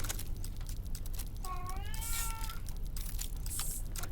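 A single drawn-out cat meow, clear and fairly close, rises and falls over a steady background hum.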